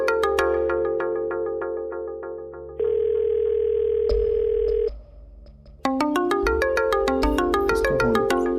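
An electronic phone ringtone plays a repeating melodic pattern of bright beeps, loud and close, shifting tones midway before the tune resumes.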